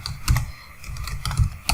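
Rapid keystrokes on a computer keyboard while code is being written, in bursts of close, fairly loud clicks with short pauses between.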